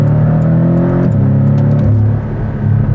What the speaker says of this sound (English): I love the brrr when you when you're off throttle.